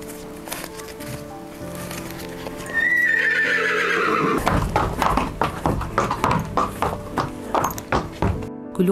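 A racehorse in a stable neighs in a rising whinny, then its hooves clip-clop in a steady run of close, distinct knocks that continue to the end.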